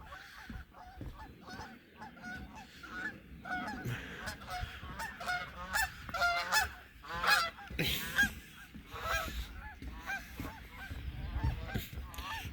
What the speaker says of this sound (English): there's a lot of birds in the trees over there